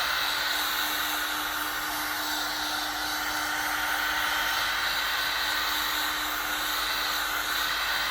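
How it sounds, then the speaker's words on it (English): Heat gun blowing hot air onto a textured car bumper during a DIY paint repair, a steady loud rushing hiss with a faint motor hum, constant and close throughout with no speech. "I'll apply some heat with the heat gun."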